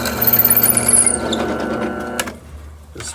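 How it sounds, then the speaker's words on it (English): Scrap brass being cut with a power cutting tool, a loud, busy whirring and grinding for about two seconds that stops abruptly, followed by quieter workshop noise and a brief knock. "We're just going to cut the brass."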